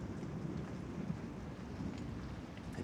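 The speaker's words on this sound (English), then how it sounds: "we've got a little bit of drizzle coming down" Rain falls during a thunderstorm in Zhaoqing, China, a faint, even hiss of drizzle with a soft low rumble underneath and no voices.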